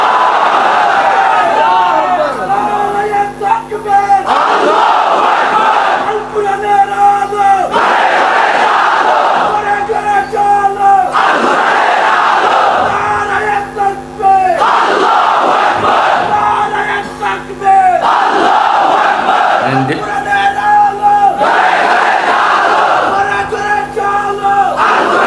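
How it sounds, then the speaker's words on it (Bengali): A large crowd shouts the takbir, Allahu Akbar, in repeated loud, unified chants, roughly seven rhythmic bursts evenly spaced with brief pauses between, booming and close throughout. "দেন একটা তাকবীর, আল্লাহু আকবার।"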